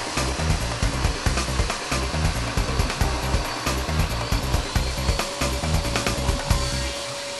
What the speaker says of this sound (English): The material that we're cutting is blue plastic.